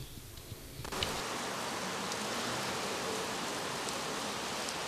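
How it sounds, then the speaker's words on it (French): Rain falls over Lubumbashi in a dense, steady hiss that starts abruptly after a quiet moment and continues evenly, with faint scattered drop sounds. "les premières pluies sont tombées sur la ville de Lubumbashi."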